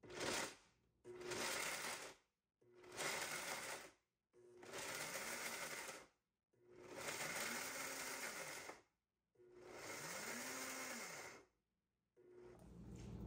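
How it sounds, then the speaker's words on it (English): A countertop blender whirs through raw vegan parmesan ingredients, including garlic, in six loud pulsed bursts of a few seconds each, separated by brief silent pauses, with the motor pitch rising and falling within each burst. "We're going to place our lid onto our carafe, and we are going to blend this."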